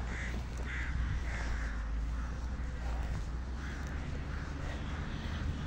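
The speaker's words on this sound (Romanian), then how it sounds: "Uitați ce de-a ciori, ciorile astea mănâncă nucile" Crows eating walnuts outdoors, their repeated harsh caws rising over a steady background rumble, several calls in a loose irregular rhythm at moderate distance.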